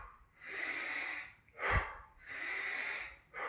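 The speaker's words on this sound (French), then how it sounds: "La façon que ça se fait, c'est 30 respirations, un peu style hyperventilation." Deep, forceful breaths of a hyperventilation-style breathing exercise, heard close and loud: long rushing inhales and exhales in a steady rhythm, with no talking.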